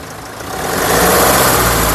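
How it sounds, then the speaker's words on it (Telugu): A 2015 Mahindra XUV500 W8 engine runs loud and close, its steady idle rising into a fuller rev that holds at the higher pitch, with no talking over it. "ఇంజన్ యొక్క నాయిస్ పర్ఫెక్ట్గా ఉంది"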